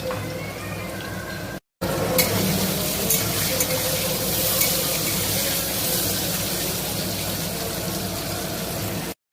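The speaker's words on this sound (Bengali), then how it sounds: "তেল গরম হয়ে গেছে আলুটা ছেড়ে দিলাম" Potato pieces frying in hot oil with salt and turmeric give a dense, continuous hiss of bubbling oil, steady and close, with brief gaps at the start and end.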